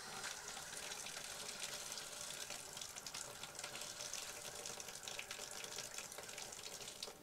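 Water running from a shower in a 2021 Rockwood Mini Lite 2509S travel trailer, a steady hissing spray that stays constant and fairly faint, with no voices.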